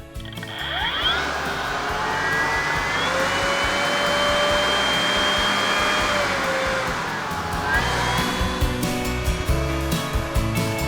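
A Cobra BV6040VZ cordless 40-volt blower vacuum spins up to a loud, steady high-pitched whine, holds close and constant, then winds down at the end with some handling clatter.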